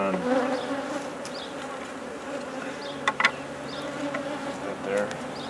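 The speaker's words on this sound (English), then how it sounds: "shake more bees into both sides so we have plenty of bees" Bees buzzing steadily in a mating nuc hive as they are shaken in and smoked, a dense close drone with a few louder wingbeat bursts partway through.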